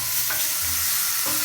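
A cheese mixture sizzles loudly in an overly hot skillet, a dense continuous hiss with a couple of brief stirring scrapes, close up and without speech.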